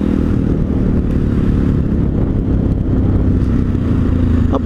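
An SWM SD 650 X motorcycle rides light off-road through open country, its engine a loud continuous rumble mixed with wind and rattling clatter, steady throughout with no talking.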